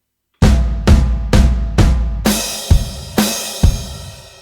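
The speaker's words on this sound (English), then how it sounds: "You've got to play your crash and your snare together, followed by your foot, crash and snare and foot." A drum kit fill ends with crash cymbal and snare struck together, then bass drum, repeated. Four sharp drum hits lead into ringing crash accents, loud and close with no talk.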